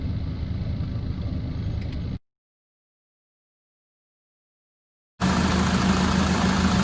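A 2007 Land Rover Defender 90 TDCi XS station wagon with the Puma diesel and 145,000 miles idles close by in a steady, even diesel hum, broken by a few seconds of silence midway.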